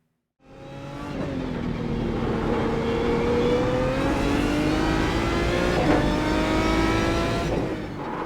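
An Aston Martin DBR9 race car in the iRacing sim at the Nürburgring Nordschleife accelerates hard, its loud engine note climbing steadily through the revs, with a brief shift midway and no talk.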